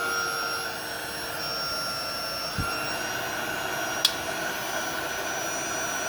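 A 1956 hairdryer on its heat setting runs with a steady, even whirring blow and motor whine, with a brief faint click midway.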